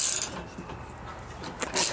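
A 12mm spline gear wrench ratchets with quick clicking strokes while removing the spare tire on a Lexus GX460, close and moderately loud.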